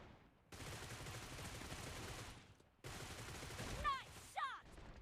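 Sustained bursts of automatic gunfire in the BGMI mobile battle game during a team deathmatch, dense and continuous with brief gaps, followed by chirping in-game effect sounds near the end.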